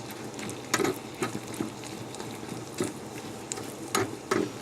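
Spices and chili powder being stirred through urad dal soup in a pan, with soft scraping strokes and a few sharper clinks of the utensil against the pan over a low steady sizzle.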